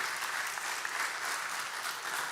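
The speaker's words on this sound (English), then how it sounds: "Can we give a round of applause for Trent, please?" An audience at a talk applauds the speaker, continuous even clapping heard from a slight distance, steady throughout with no talk over it.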